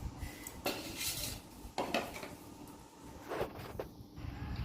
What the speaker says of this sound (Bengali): এখন আমি এগুলোকে ছোটো ছোটো আকারে কেটে নিচ্ছি